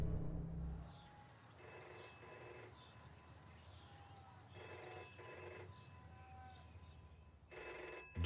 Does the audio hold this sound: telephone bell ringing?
yes